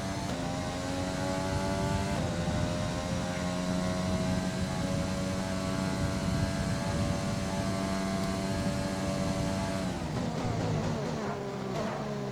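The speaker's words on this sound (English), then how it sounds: "And full throttle after these guys here." Sustained, steady engine roar of a Formula 1 car held at full throttle in a racing video game at the American Grand Prix, loud and continuous with a strong harmonic whine, shifting and dropping off near the end.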